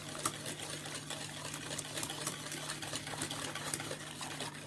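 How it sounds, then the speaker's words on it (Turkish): Tiramisu cream ingredients, including added flour, are stirred in a bowl before going on the stove, giving a fast, steady run of rhythmic clicking and scraping strokes over a faint hum, with no voices. "şu malzemelerimi iyice ocağa almadan önce çok iyi karıştıracağım"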